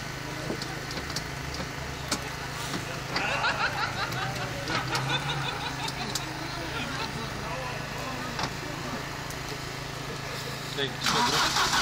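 A car engine cranks on its starter and catches amid a noisy outdoor scene, with people shouting and talking throughout as the car is maneuvered in reverse.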